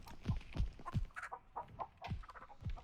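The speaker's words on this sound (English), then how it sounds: "I hate these chickens." Chickens cluck in The Texas Chainsaw Massacre video game, a series of short, soft clucks and low thumps repeating in a loose rhythm, fairly faint and close, with no talk.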